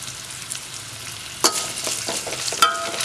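Dried red chillies dropped into hot oil with frying garlic and shallots for a Tamil pirandai chutney, a steady close sizzle with scraping stirs and sharp crackles as the chillies hit the pan.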